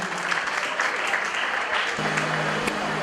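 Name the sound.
audience applause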